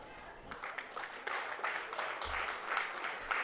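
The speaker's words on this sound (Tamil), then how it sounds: "நீங்க எல்லாம் ஒரு பெரிய கைத்தட்டல் கொடுக்கும்." Audience applause breaking out at a Tamil public speech event, a broad steady wash of clapping from a crowd lasting several seconds, with talk faintly mixed in.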